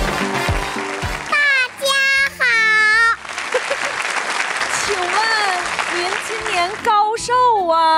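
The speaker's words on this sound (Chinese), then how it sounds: "掌声欢迎" Audience applause on a Chinese TV talent show for a 4-year-old Henan opera performer, a dense clapping wash running under and between a small child's high, sing-song voice.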